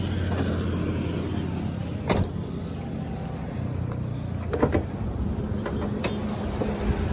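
A 2010 Swift Dzire VXi sits with its engine running at idle, a steady low rumble with a few faint clicks and knocks on top, continuous throughout.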